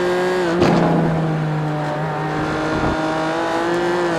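BMW race car from the BMW M Power Tour in iRacing, engine droning steadily at high revs on track with a brief throttle blip and gear change, loud and continuous, with faint tire noise.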